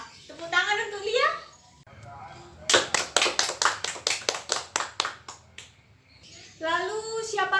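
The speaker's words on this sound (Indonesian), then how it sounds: "Tepuk tangan untuk Lia." A classroom bursts into a short round of applause for a student, about a dozen sharp hand claps in a steady rhythm, with children's voices talking just before and after.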